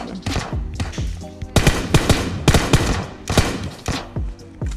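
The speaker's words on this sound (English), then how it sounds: "Oh, there's two people shooting." Two players trade rapid gunfire in the PUBG Battlegrounds video game, loud overlapping bursts of shots cracking in quick succession and closely spaced throughout.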